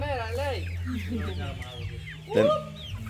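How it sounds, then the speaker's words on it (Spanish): Chickens clucking, with a rooster among the barnyard fowl, in repeated close calls; a sharper, louder squawk stands out near the end. "El gallo está trayendo."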